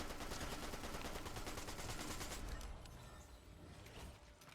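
Rapid, dense gunfire from a god weapon in the Fortnite video game, a continuous loud burst that eases slightly toward the end, with no talking.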